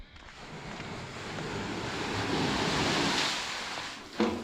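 Water rushes and splashes continuously from a pump outlet pipe, a steady broadband gush that swells slightly midway, with a brief knock near the end.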